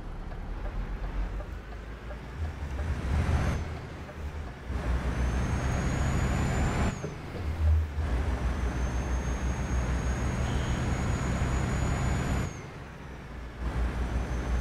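A truck engine in American Truck Simulator drones loudly and continuously with deep low rumble, punctuated by a few brief pauses and hissing air-brake releases; no talk.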